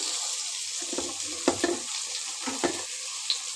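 Chopped onion greens go into a frying pan with a soft, steady sizzle under a few sharp spatula scrapes and clacks, close by and fairly quiet.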